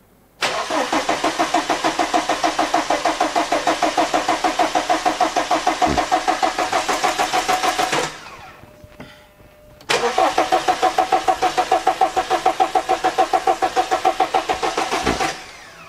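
A diesel car engine with air in its fuel circuit cranks in two long bursts of rapid, even starter rhythm, loud and close, with a short pause between and no catch.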